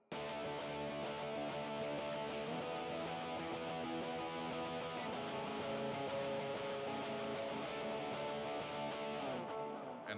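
Electric guitar playing a distorted power-chord riff in a polyrhythmic worship-style pattern, sustained and dense, steady and loud for about ten seconds without pauses.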